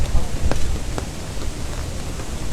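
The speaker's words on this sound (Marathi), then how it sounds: "किती पाऊस सध्या ठाण्यात पडतोय" Heavy, record-breaking monsoon rain in Thane, near the overflowing Upvan lake, makes a dense, steady broadband hiss with a few faint taps; no voices are heard.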